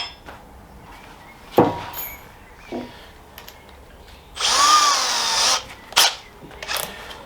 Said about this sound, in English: So when drilling by hand,